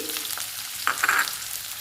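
Onions drop into hot tempering oil and burst into a loud, close hiss of frying that swells briefly before settling into a steady sizzle.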